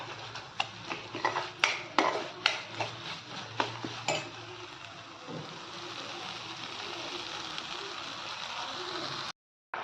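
Masala paste is stirred and fried in oil in a pan for a masoor dal amti, with a steady sizzle under repeated metallic scrapes and clinks of a spoon that slow and thin out before cutting off abruptly.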